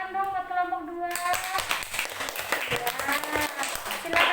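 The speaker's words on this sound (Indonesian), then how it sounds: "Kalau sudah, tepuk tangan dong buat kelompok 2." Classroom of young students clapping for a group that has just presented, a busy patter of many small hands with children's voices and chatter mixed in.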